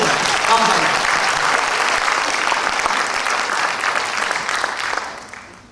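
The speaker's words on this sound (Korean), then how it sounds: "박수 한번 쳐주세요." A crowd at a graduate school of education alumni gathering claps in loud, sustained applause that begins near full strength and gradually tapers off, with a brief voice near the start.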